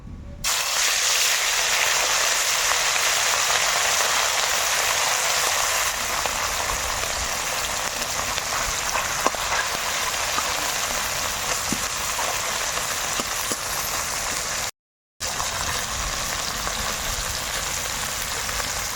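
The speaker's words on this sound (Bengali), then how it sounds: "এবার মাছগুলো দিয়ে আমি ভেজে নেবো" Small puti fish fry in hot mustard oil, giving a dense, even sizzle that runs almost unbroken at close range, with one brief cut near the end.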